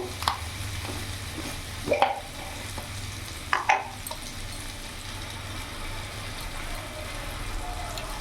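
Vegetables for Bengali shukto stir-frying in a pan before mustard-poppy paste goes in, a steady low sizzle with a few sharp spatula scrapes and clacks against the pan, no talking.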